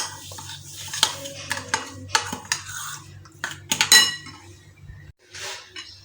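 A metal spoon stirs sugar into cream in a bowl for a fruit chaat, giving repeated close clinks and scrapes in an uneven rhythm, with a short quiet stretch near the end.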